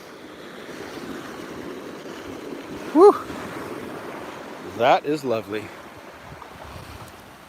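Ocean surf washes steadily along a beach as someone wades into the shallow water, a constant broadband wash with light wind, broken by brief spoken exclamations from the person walking.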